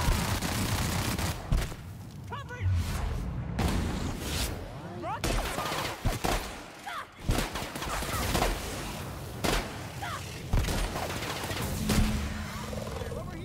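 Rapid gunfire and blasts fill a fight in The Outer Worlds, shots crackling in dense bursts against roaring creature noises and impacts, loud and near throughout, with no voices heard.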